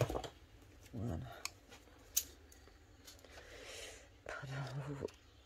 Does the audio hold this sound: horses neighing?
no